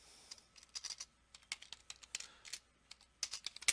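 Fingers type a title into a website builder on a computer keyboard, making close, crisp keystrokes in irregular quick bursts with short pauses and no voices.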